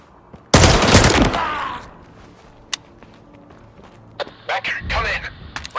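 Gunfire in the video game STALKER 2: a loud burst of automatic fire up front, then scattered single shots, footsteps and brief voice-like radio chatter toward the end.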